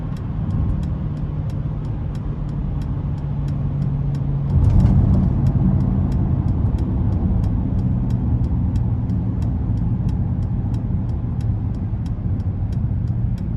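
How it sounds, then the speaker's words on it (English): A 2021 Mercedes-Benz GLS 63 AMG with the 4.0-litre twin-turbo V8 accelerates, its exhaust a steady, loud drone that swells in intensity around midway and holds as the SUV pulls hard, with no talking. "the menacing scream you get from the exhaust"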